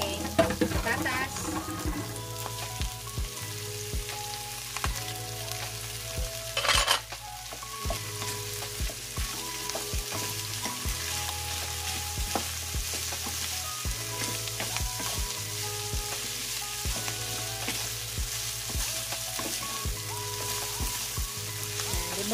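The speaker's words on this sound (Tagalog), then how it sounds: "ilagay ko na yung aking carrots guys. Lagay ko na rin yung aking patatas." Carrots and potatoes frying in a pan with beef giniling, a steady close sizzle with repeated scraping stirs and clatter of the utensil against the pan throughout.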